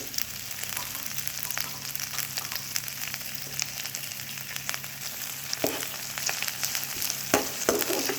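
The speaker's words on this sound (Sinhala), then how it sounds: "යාන්තමින් බැදෙනකන් තෙලේ කරගමු." Okra with curry leaves and green chilies sizzles quietly in hot oil, a soft steady crackle with occasional sharper pops and stirring scrapes.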